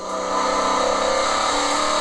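A race car accelerating hard on a track, its engine revving loud and close in one sustained, rising roar.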